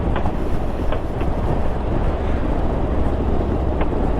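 A 2022 Harley-Davidson Street Glide ST 117 cruises downhill in sixth gear at about 45 mph. It gives a loud, steady low rumble blended with heavy wind buffeting on the microphone, with no speech.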